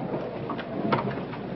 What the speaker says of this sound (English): But I believe the storm has already started.